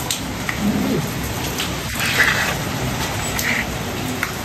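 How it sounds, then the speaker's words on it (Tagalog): Steady light rain patters continuously with a soft hiss, a few faint drips standing out, no voices. "Pero ulan naman po, hindi po ganyan kalakasan."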